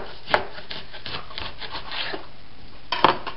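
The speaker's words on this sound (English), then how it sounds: "So I'm going to cut a couple of ribeye steaks that we're going to do off the grill." A knife saws through a prime rib to cut off ribeye steaks, a close, steady rasping drag of blade through meat with a couple of sharper knocks against the board, no talk over it.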